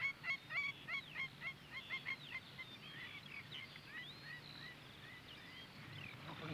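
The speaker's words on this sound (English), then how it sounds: "the spur-winged plover. Always shrieking and yelling and giving away your position" A spur-winged plover shrieks in a marsh with a rapid series of sharp, loud, repeated calls, then quieter chattering against a soft background.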